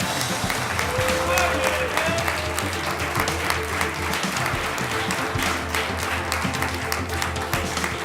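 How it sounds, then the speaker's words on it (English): Steady audience applause for state finalists fills the room with continuous dense clapping, and some voices murmur underneath. "Let's give them a big round of applause."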